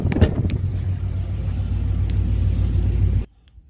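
A 2005 Ford Mustang GT V8 fitted with longtube headers idles with a deep, loud rumble, running steadily before cutting off abruptly near the end, leaving near silence.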